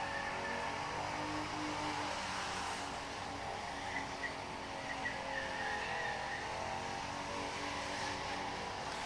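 A bored-out 305 engine revs hard and sustained at high RPM at a test-and-tune track day, a continuous distant wailing drone that holds steady for the whole stretch, with no talking.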